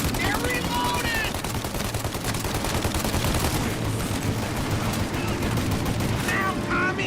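Sustained, dense gunfire from a mounted turret in the Mafia video game: loud, rapid bursts that barely let up for the whole stretch.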